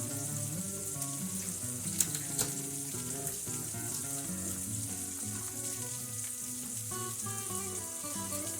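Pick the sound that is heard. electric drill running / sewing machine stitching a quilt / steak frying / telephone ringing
steak frying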